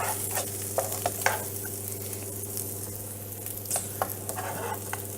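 Bacon and onion fry in a pan with a constant sizzle under a low steady hum. Scattered pops and scrapes from stirring sound close by, and no one speaks.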